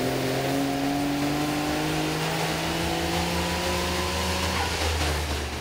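Nissan GT-R converted to E85 with a Haltech ECU, run hard on a dyno: a loud, steady engine drone with harmonics rising as revs climb through a sustained wide-open pull, close and continuous with no talk.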